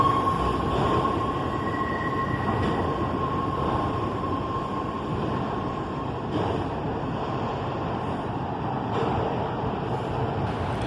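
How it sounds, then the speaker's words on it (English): Freight train led by Columbus and Greenville GP15-1 locomotives rolls past at a steady, moderately distant roar, with continuous wheel and rail noise and a faint high squeal, no voices. "Not a minute after I got to the new spot, a train was coming."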